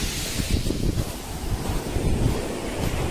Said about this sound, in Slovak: ale fúka vietor